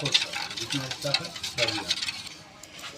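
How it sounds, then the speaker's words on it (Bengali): Cake batter for a mango cake being beaten by hand in a bowl, a close, brisk, rhythmic whisking and scraping repeating several times, fairly loud. "বারে বারে দিচ্ছি আর ফেটতেছি, এটা ফেটাটা বেশি হচ্ছে।"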